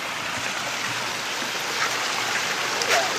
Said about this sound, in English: Waterfalls, that's a huge, huge